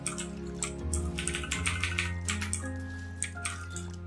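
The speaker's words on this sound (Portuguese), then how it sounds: "Vou encher o negócio de água." A container fills with water in the survival game Raft, a soft splashing, trickling run. Tonal game music and scattered clicks play beneath it.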